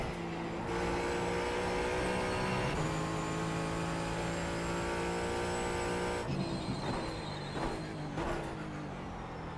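Ford Mustang GT4 engine in iRacing at Sonoma, a loud, sustained race-car drone that climbs steadily through the revs, breaks at a gear change, then roars again with rougher, choppy notes toward the end.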